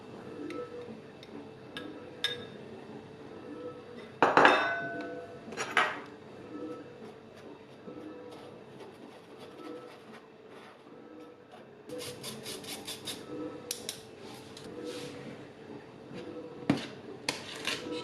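Cozonac filling with cocoa being mixed in a bowl: quiet scraping and rubbing with occasional sharp clinks of a utensil against the bowl, and a few clustered ticking bursts, close and faint without speech.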